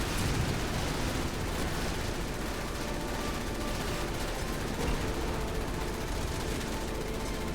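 Shooting at enemies in Resident Evil 6 comes as a steady, dense barrage of gunfire and blasts over a noisy battle background, sustained for the whole stretch without clear pauses.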